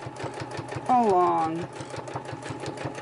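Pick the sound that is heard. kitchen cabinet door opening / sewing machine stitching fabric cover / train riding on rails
sewing machine stitching fabric cover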